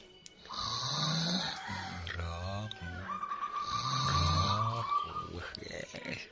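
A perkutut zebra dove kept in a cage at a house in Java gives repeated low, rolling coos in two long bouts, with someone talking close by.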